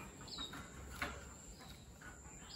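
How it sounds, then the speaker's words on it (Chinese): A common house sparrow in Beijing gives a few faint, scattered chirps over a quiet background hum. "看，这个就是普通的麻雀"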